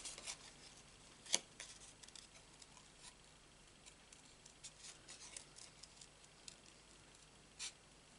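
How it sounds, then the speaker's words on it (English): Scissors cutting out a stamped paper flower, a series of quiet close snips and small crisp clicks at irregular intervals in a hushed room, one sharper snap early on. "Scissors, and now we're going to cut out"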